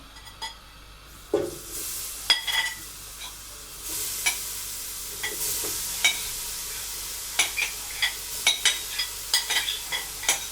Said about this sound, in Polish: Oczywiście co jakiś czas mieszamy drewnianą łyżką.